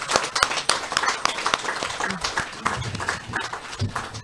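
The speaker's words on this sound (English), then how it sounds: "Let us all give another round of applause to our recipients here today." Audience applause for award recipients at a King's Birthday Honours investiture ceremony in St. Lucia, steady scattered clapping filling the room for several seconds, fairly close and moderately loud, with some low rumble underneath.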